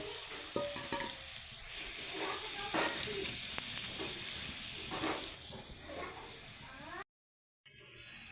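Green chillies and onion sizzle steadily in hot oil in a pan, a loud continuous frying hiss with stirring scrapes throughout, ending in a brief silence.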